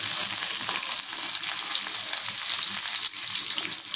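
Vegetables with curry leaves frying in a pan over a low flame, a loud, steady, close hiss of sizzling oil that barely changes throughout.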